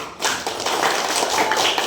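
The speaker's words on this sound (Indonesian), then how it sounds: "Tepuk tangan buat Mas Nikan sama Mas Habis." Classroom of students clapping for two classmates, a dense, close burst of applause that holds steady for a couple of seconds.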